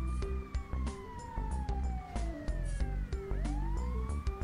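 A wailing ambulance siren in GTA V Online, a long tone sweeping steadily downward then rising again, heard up close over a busy game mix with repeated clanks and thumps.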